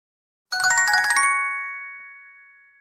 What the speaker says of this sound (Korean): 그때 폰에서 벨소리가 울렸다